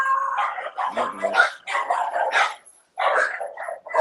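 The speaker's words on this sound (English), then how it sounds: "There the dogs go." Dogs bark in quick, close bursts, several sharp yips and woofs overlapping with a brief pause before barking resumes.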